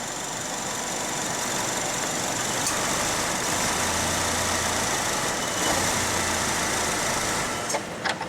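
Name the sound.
Chevrolet Malibu engine stumbling and stalling out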